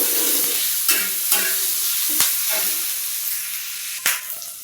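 Chopped onion and ginger roast in a hot pan with a constant close sizzle and hiss, broken by a few sharp clinks and scrapes of stirring.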